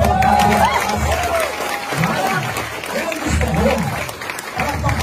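Crowd at a new distributor orientation applauding and cheering continuously, with a voice talking over the clapping throughout.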